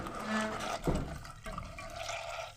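Baking paper soaked in a little water and squeezed out, giving close, wet sloshing and dripping with a brief squelch, heard alone without talk.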